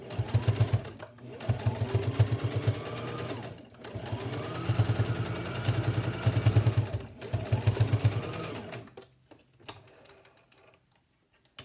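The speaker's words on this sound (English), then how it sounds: "And now I'm going to run that second stitch." Sewing machine stitching a washable four-ply fabric mask: close, rapid mechanical chatter in three sustained runs separated by brief pauses, then fading into quiet handling noises.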